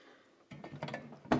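A ratchet wrench tightens a nut onto a bolt on a tow-behind lawn aerator outdoors, giving short bursts of metallic clicking after a quiet start, with a louder clatter near the end.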